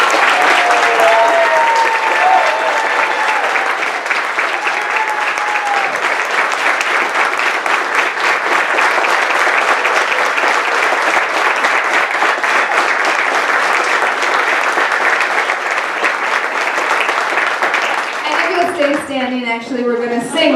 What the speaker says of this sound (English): can we give all of these scholars a huge round of applause?